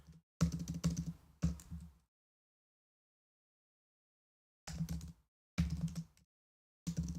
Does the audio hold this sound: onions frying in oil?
no